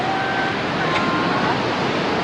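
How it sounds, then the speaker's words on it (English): A mighty waterfall rushing below the Alps makes a loud, continuous broadband roar with no breaks, with a faint tone drifting over it and no voice on top. "the sound that you hear is a mighty rush of waterfall"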